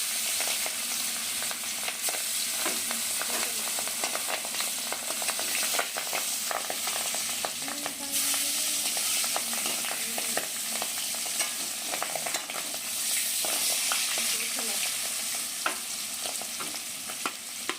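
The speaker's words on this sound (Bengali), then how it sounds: "মাছ ভেজে নেব।" Boal fish fry in hot mustard oil in a wok, a steady bright sizzle with occasional spatters and stirring clinks, close and continuous with no talk.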